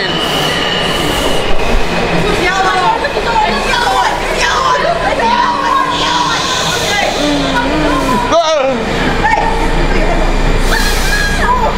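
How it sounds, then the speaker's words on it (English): Washington DC Metro train in motion, with a steady rumbling ride, rattling carriage noise and a brief wheel or brake squeal partway through, while passengers chatter throughout. "We're in the Metro."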